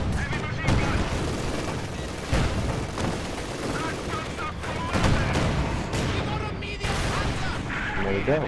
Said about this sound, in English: I'm still losing people from that bloody mortar.